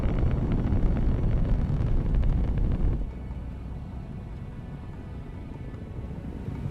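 Rocket launch carrying the Cassini spacecraft after stage 1 ignition, a distant broad rumbling roar that drops suddenly partway through and then continues as a lower, steady rumble.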